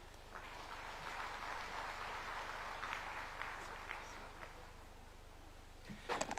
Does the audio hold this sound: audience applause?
yes